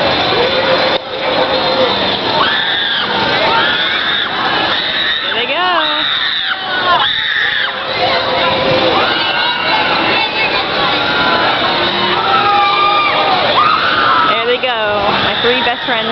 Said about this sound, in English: Three best friends in the whole wide world, screaming their lungs out.